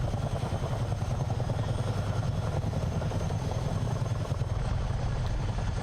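A CH-47 Chinook twin-rotor helicopter flying in Microsoft Flight Simulator gives a steady, loud rotor drone with a deep pulsing thump and a constant engine whine, unbroken and with no voices.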